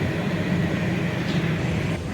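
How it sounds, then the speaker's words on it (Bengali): The Rupsha Bangla Express pulls out of Dhaka with a steady low rumble of wheels and carriages, heard from inside and continuous without a break. "ট্রেনটি ঢাকা থেকে ছেড়ে দিল সঠিক সময়ে"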